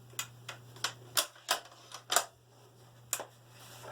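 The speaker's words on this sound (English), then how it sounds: "Taking it off, first you can work the bolt and fire." Bolt of a Tikka T3x rifle being worked, giving a series of sharp, close metallic clicks and clacks in an uneven rhythm over a faint steady hum.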